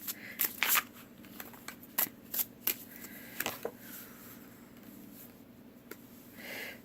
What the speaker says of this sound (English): let's shuffle that card in a little bit